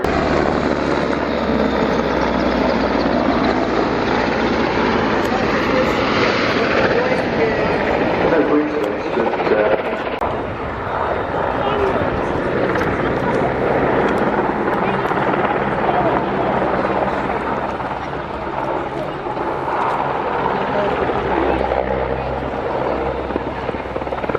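A Merlin helicopter flies past at the Royal International Air Tattoo, a military air show, its steady rotor thump and turbine roar filling the whole span loud and continuous, with announcer speech faintly underneath.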